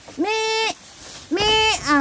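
A male goat bleats twice, close and loud, each call a quavering nasal cry lasting about half a second, separated by a short pause.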